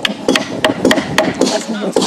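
Hammer blows struck at an outdoor camp build, a series of sharp, irregular thwacks on wood repeating close by with short gaps between strikes.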